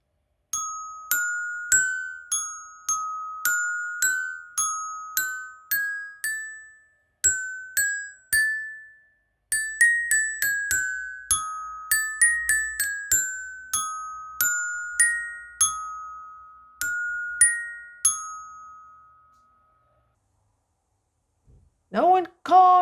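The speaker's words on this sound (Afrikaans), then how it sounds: "Nou op die xylofoon." A xylophone plays the simple, bright nursery melody Vader Jakob (Frère Jacques) note by note, each strike ringing briefly, then a voice begins near the end.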